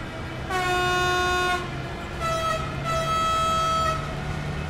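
A BR 193 Vectron electric locomotive in the game Train Sim World 4 sounds its horn twice. Both blasts are loud, sustained, multi-tone notes over a steady running rumble.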